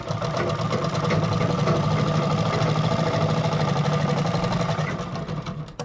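A sewing machine runs nonstop for several seconds, a close, fast, even mechanical chatter as it stitches a half-inch folded fabric hem on a boat-neck designer blouse, then slows and stops at the end.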